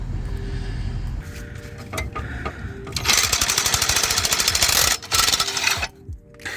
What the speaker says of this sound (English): I was able to break these bolts loose and then use the impact after